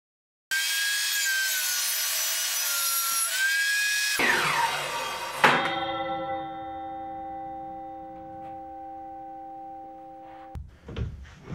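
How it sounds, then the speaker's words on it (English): A saw with its blade tilted to 45 degrees makes a miter cut through a board, giving a loud, steady high-pitched cutting whine that ends abruptly, then a ringing tone as the blade spins down, with a few clunks at the end. "For the frame, I had to make some miter cuts, therefore the saw blade must be tilted to 45 degrees"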